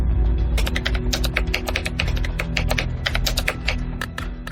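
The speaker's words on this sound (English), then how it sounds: "That's Donahue typing his new password, twice, and the keylogger picks it up." Rapid keystrokes on a computer keyboard as a password is typed twice, a dense, uneven stream of close, crisp clicks running steadily throughout.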